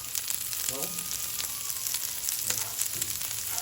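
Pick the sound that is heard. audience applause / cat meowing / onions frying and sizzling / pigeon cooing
onions frying and sizzling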